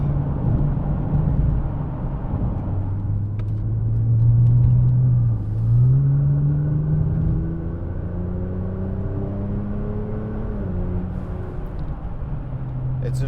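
Nissan GT-R engine pulling hard under acceleration from inside the cabin, a loud steady low rumble with rising tones as it gains speed, continuous for the whole stretch.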